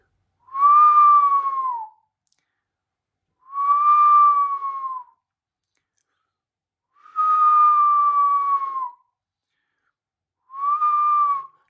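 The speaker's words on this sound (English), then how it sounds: "Notice every time that I whistle," A single person gives four loud whistles made with the lips, each a sustained, slightly falling tone lasting about a second, separated by clear pauses of near silence.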